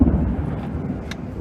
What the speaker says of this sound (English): we can hear the thunder